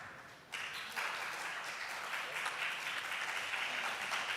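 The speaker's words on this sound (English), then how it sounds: "Can we give them applause?" An audience at a law-faculty academic event on the future of legal education breaks into applause. It swells quickly after a short quiet start, then holds as a steady, dense wash of clapping.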